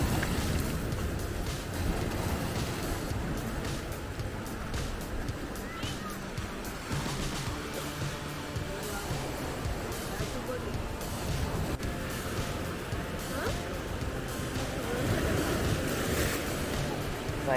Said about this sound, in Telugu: భీమిలిలో ఉంది రిషికొండ బీచ్ వైజాగ్లో.